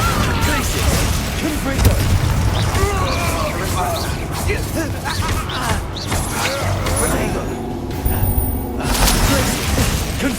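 Confringo fire-blast spells cast in Hogwarts Legacy on PS5, a string of sharp bursts and crackling impacts amid busy combat effects, with a voice speaking over the fight.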